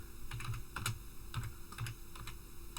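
Fingers typing on a computer keyboard in a quiet room, a few short clusters of clicky keystrokes over a low steady hum.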